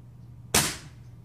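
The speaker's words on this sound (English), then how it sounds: "I'm going to shoot them with the regular Crossman hollow point." A Benjamin Maximus air rifle fires a Crosman hollow-point pellet into a clay block with a single sharp, loud crack that decays fast over a faint background hum.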